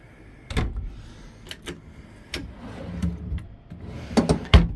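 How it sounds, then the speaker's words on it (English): Pull-out drawers in a 2023 Host Mammoth truck camper slide open and shut, giving several scattered clicks, thumps and brief rolling slides at close range with no talk. "Nice pull-out drawers."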